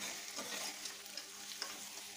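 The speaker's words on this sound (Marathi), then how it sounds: "मीठ टाकून पुन्हा सर्व व्यवस्थित मिक्स करून घ्यायचे" Mutton in a pan is stirred after salt goes in, with a low crackling sizzle and soft scraping strokes of the spoon, faint and steady with no voices.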